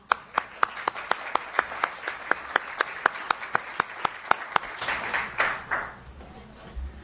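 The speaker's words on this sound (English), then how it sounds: "we could give you a round of applause" A few people in a lecture audience clap in sparse, evenly spaced claps that thin out and blur into a brief smattering before fading.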